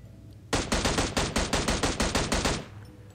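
A rapid, loud burst of about a dozen M16 rifle shots fires in even succession from PUBG Mobile, lasting roughly two seconds before cutting off cleanly.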